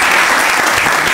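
Loud, dense audience applause in a TV studio during a live midday talk show, sustained evenly from start to finish.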